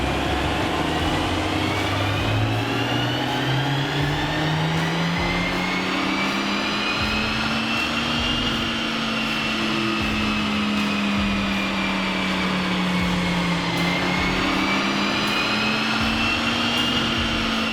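A Mercedes-Benz A45 in standard form, fitted with a tuning box, is run on a dyno: its engine drones loud and steady, the pitch climbing and easing across the run with no talking over it.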